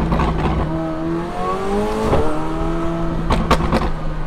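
A McLaren P1 supercar's engine and exhaust rev loudly, pitch rising and falling through several throttle blips, close by, with sharp crackles near the end.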